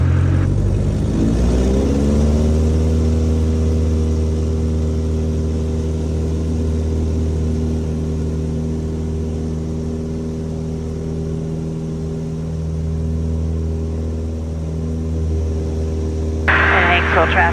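A Piper Cub light aircraft departing a backcountry strip at Hanksville: a steady, droning piston engine hum with strong harmonic tones that rises as power comes up and holds loud throughout, with speech over it.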